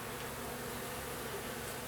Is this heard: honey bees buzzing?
yes